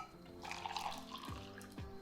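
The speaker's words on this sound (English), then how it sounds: "You'll then need to add your boiling water to your mug." Boiling water is poured into a mug of sieved matcha powder in a kitchen, a soft, quiet trickle with a few faint drips and no speech.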